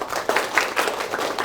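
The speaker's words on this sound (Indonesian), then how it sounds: "Oke, bagus. Tepuk tangan." Applause in a university lecture hall, a short burst of many hands clapping at close range that keeps going steadily without letting up.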